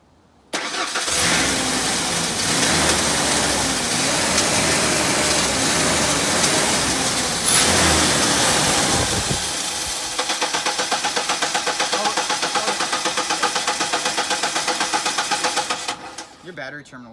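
A truck engine cranks with a grinding starter, catches about ten seconds in, and then settles into a steady rhythmic idle, close to the microphone, with people talking over the cranking.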